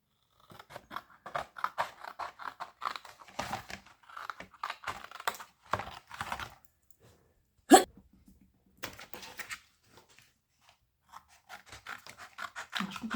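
Scissors cutting the edges of a cardboard Dolce Gusto coffee box, a close series of crisp snipping and crunching strokes in irregular bursts with brief pauses, and one sharp loud snap midway.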